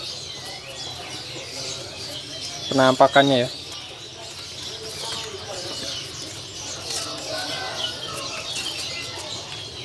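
Birds in a bird-selling kiosk coo and chirp in a short burst of calls amid steady shop ambience, with people talking nearby.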